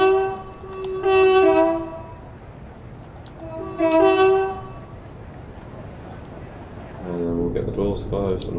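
Two long two-tone train horn blasts from a train on the West Coast Main Line between Watford Junction and London Euston in Train Sim World 5, each lasting over a second, loud and close over a steady rail rumble, followed by a low rising tone.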